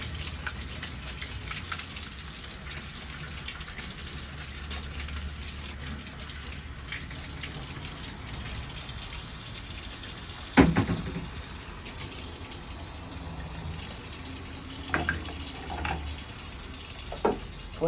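Running water rinses the dust out of a Cerec dental milling unit, a steady close gush under a faucet lasting throughout, broken by a few clunks and knocks of parts being handled.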